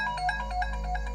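Mobile phone ringtone from a Hindi film scene: a short, clear electronic melody of repeating pulsed tones, heard alone.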